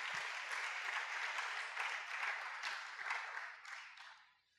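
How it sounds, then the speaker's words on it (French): A congregation at a French-language thanksgiving church service applauds for God, a dense, steady wave of many hands clapping that swells and then fades out toward the end. "Est-ce que nous pouvons acclamer pour Dieu?"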